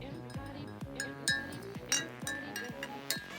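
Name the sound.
bar spoon stirring brown sugar into coffee in a glass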